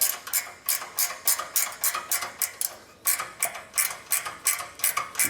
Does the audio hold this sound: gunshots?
no